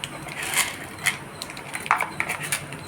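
Mustard seeds and urad dal hit hot oil in a pan, producing a dense, close sizzle with scattered sharp crackles and pops over a brief span.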